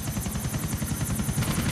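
A helicopter in the video game GTA IV: The Lost and Damned thunders loudly and close, its rotor blades chopping in a fast, steady rhythm with no voices over it.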